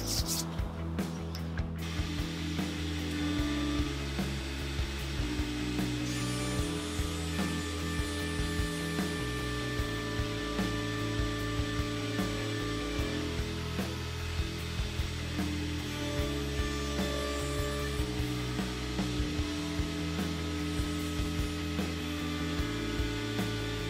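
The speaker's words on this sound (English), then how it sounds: "So we completed our chamfer in a couple of passes on the underside of the table" A router cuts a chamfer along the underside of a wooden table, a steady loud high-pitched motor whine with cutting noise running continuously throughout, no talking.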